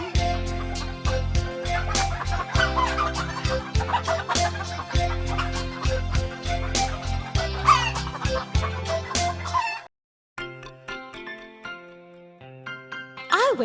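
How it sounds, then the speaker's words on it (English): A hen clucks in a cartoon nursery rhyme song, its short calls set against bouncy, loud music with a singing voice, before the music briefly drops out near the end. "9, 10, cluck, cluck, cluck."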